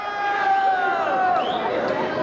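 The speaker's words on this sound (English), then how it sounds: "Vocal crowd at Norristown tonight." A loud high school basketball crowd at Norristown fills the gym with a steady roar of voices and chatter, while a commentator talks over it throughout.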